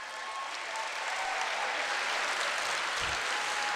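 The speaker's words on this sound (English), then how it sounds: "Please give these guys a round of applause" A crowd at the 2019 LCS Convocation applauds, producing a continuous wash of clapping that holds steady at an even level for the whole stretch.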